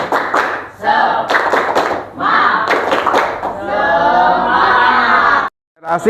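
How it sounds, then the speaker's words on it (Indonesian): A class performs the rhythmic tepuk semangat clapping chant, bursts of group clapping interleaved with loud chanted voices in a pattern of short phrases, ending with a final shouted note and brief silence. "Oke, ya, tepuk semangat."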